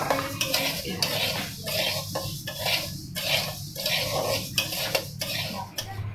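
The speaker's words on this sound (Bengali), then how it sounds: "আমাদের ডাল ভাজা হচ্ছে" Moong dal being dry-roasted in a pot for khichuri, with steady scraping and stirring against the metal and clinks of a utensil over a soft background sizzle, close and fairly loud throughout.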